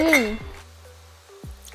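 A metal pot lid clanks down onto a pot of eggs being boiled, followed by a couple of lighter knocks and clinks, close by in a quiet kitchen.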